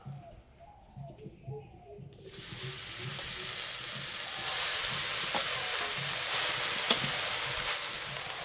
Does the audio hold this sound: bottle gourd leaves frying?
yes